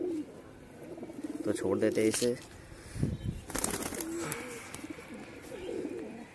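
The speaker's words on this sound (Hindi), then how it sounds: "तो काफ़ी तगड़ा कबूतर है माशाल्लाह" A large pigeon coos in low, throaty bursts close by on a rooftop while someone talks over it; faint rustling and outdoor background noise.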